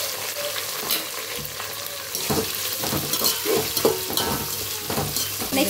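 Mint and onions frying in a pan for Telangana-style chicken bagara rice, a loud continuous close sizzle broken by repeated stirring scrapes and clatter.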